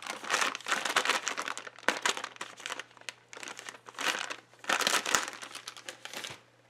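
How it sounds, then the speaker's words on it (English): A baby wipe is tugged from its soft plastic pack beside a watercolor palette, giving close, crackly crinkling in several uneven bursts with brief pauses between. "I'm gonna get a baby wipe."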